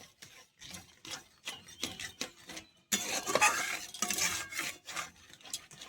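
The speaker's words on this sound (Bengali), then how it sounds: "দিয়ে এবার নাড়তে থাকবো।" A tomato mixture with sugar and rock salt stirred in a pan, a spoon dragging in repeated rubbing strokes, soft at first and then louder and denser.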